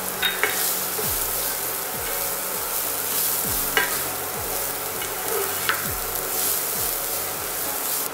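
Finely chopped onions fry in a pan with a constant dense sizzle, close and fairly loud. Light stirring scrapes recur every second or two throughout, and no one speaks.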